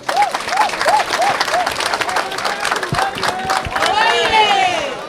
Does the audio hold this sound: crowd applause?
yes